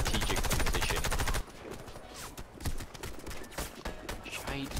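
Warface gunfire starts as a rapid, evenly spaced automatic burst for over a second, then gives way to scattered, quieter shots and impacts at irregular intervals.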